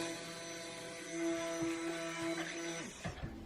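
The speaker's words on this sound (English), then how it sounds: "let me blend my kaolin clay, oils, and sodium lactate one more time before I get the lye in there" Blender steadily mixing kaolin clay, oils and sodium lactate for cold process soap, a continuous motor hum with whirring tones that shifts near the end as it winds down, no talking.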